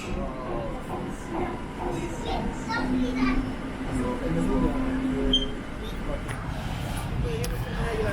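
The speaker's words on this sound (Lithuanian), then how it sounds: "Labai daug po metro trinuosi." A metro subway train in Barcelona rumbles steadily throughout, a continuous low roar with a faint tonal whine midway, while people and children talk in the background.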